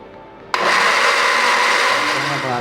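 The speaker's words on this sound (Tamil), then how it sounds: "தேங்காய் பால் அரைச்சாச்சு" Electric blender grinding coconut with four cardamom pods and water for coconut milk, switching on abruptly and running as a loud, steady whirring drone.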